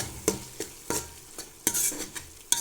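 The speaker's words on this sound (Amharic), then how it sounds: "እየተንተከተከልኝ ነው። ነጭ ሽንኩርቱን ጨምሬበታለሁ" Crushed garlic fries in a pan with a low sizzle, punctuated by sharp, rhythmic scrapes and knocks of a spoon stirring against the pan, close by and without voices.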